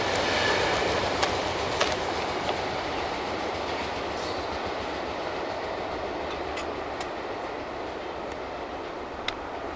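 A heavy CSX freight train rolls steadily past, with continuous rumbling wheels and occasional sharp clanks and metallic clicks, close and loud throughout.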